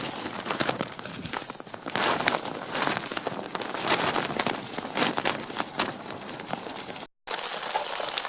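Steady rain patters on a tent surface in the Lofoten Islands, a dense crackling hiss throughout with a brief cut near the end.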